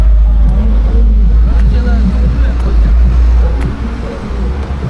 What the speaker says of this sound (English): that car is just speeding up